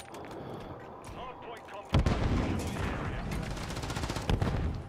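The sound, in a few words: gunfire in Call of Duty MW3 video game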